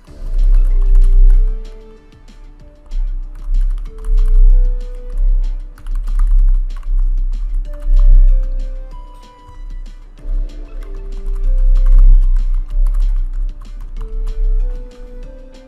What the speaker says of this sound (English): Type your email and set a password.